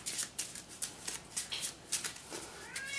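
Cards from the Love Letter card game are shuffled close by, a quick series of crisp rhythmic riffling bursts, each a short papery slap repeating steadily for a few seconds.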